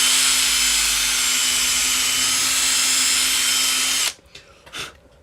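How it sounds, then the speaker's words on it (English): A small power drill whirs steadily as it opens a hole in the plastic chassis of a Bachmann 159 model train, loud and continuous for about four seconds before cutting off into quiet handling noises. "first I'm just going to use the drill just to open it up a little bit"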